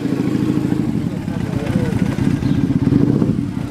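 BMW M3 engine at a car meet as it pulls in: a loud, close, rumbling idle with a steady low throb throughout, while people talk over it.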